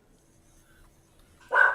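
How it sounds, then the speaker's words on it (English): A dog barks in another room, a short muffled burst at the very end after near silence, fairly loud against the quiet. "my dog is going crazy in the other room"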